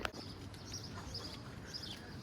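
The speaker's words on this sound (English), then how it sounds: "You can hear the birds singing." Faint, scattered bird chirps over a soft, steady outdoor background on a beach in Alykes, Zante, Greece, on a May morning.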